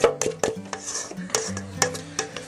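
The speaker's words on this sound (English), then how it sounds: "get the rubber spatula, just kind of work it around the edge here like that" A rubber spatula works around the edge of a mixing bowl of chocolate pudding cake batter, giving soft scrapes and light knocks against the bowl in short, uneven strokes.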